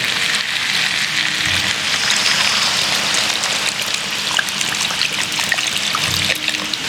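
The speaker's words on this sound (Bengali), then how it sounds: "প্রথমে আমরা দিচ্ছি জল" Water is poured steadily into mutton curry in a pot, a loud continuous trickling and splashing stream that runs throughout with no speech.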